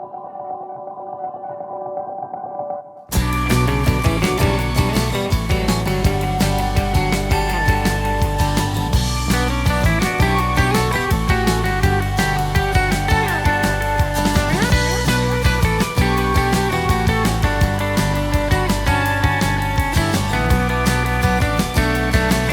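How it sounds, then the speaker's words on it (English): A full song mix plays back dry, without plugins, after a brief quieter lead-in; dense, loud and continuous with a steady beat running throughout, no talking over it. "I'll just play the song back a little bit without the plugins."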